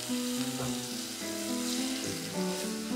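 Half a teaspoon of ginger and a teaspoon of crushed garlic frying in a pan for a dhaba-style paneer curry, a steady close sizzle running through the whole moment with faint tonal background music underneath.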